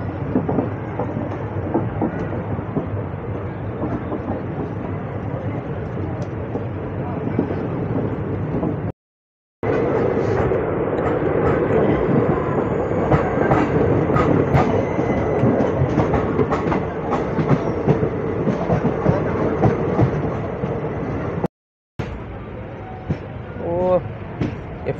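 Train No 16057, the Saptagiri Express, runs on the rails from Chennai to Tirupati. A loud, continuous rumble and rattle of the carriage comes with rhythmic clickety-clack over the joints, two brief dropouts, and voices faintly in the background.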